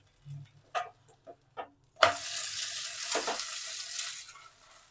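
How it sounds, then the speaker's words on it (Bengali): Chicken chilla frying in a pan, brushed with oil, starting after a few light knocks with a loud sudden sizzle that holds steady and close for the remaining seconds. "একইভাবে আরো দুটো ভেজে নিচ্ছি আমি"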